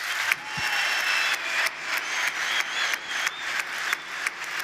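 Audience at an education panel clapping steadily for the speakers, a dense, even wash of applause with rhythmic pulses, sustained and fairly loud, no talk over it.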